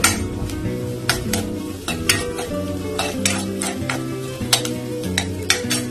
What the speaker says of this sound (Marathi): लसूण परतून घेतले आपण.